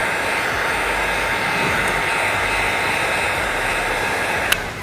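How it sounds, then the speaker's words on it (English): A heat gun on its low setting blows hot air over the adhesive of vinyl chrome-delete film on a 2014-2018 Subaru Forester. It gives a steady, close, even whoosh the whole time, ending with a brief sharp click. "You could use a heat gun or hair dryer. Use the low setting and apply heat to help the adhesive on the film activate faster."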